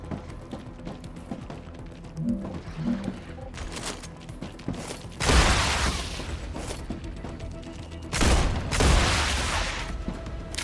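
Gunfire shooting bugs in StarRupture, mechanical clicks and rattles giving way to two loud bursts of rapid automatic fire with dense, noisy reports.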